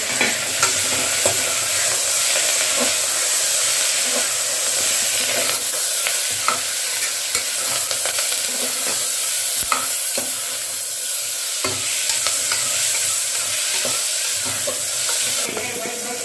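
Onions and tomatoes with curry leaves frying in oil in a pan for drumstick and raw mango sambar, a steady bright sizzle and hiss throughout, broken by repeated scraping stirs of a spoon against the pan.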